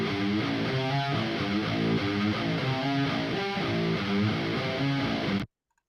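Two separate distorted electric guitar takes panned hard left and right, playing a dense, wide chord riff that rings loud and steady before stopping abruptly.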